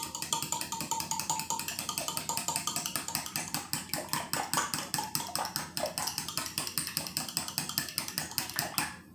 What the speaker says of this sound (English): So now I'm going to take my fork. And I'm going to beat all the eggs up.